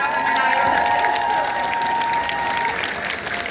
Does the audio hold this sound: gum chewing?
no